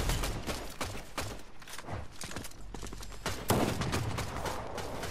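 Video game gunfire, a quick string of sharp shots with a short louder burst near the end, fairly quiet and heard alone with no talk over it.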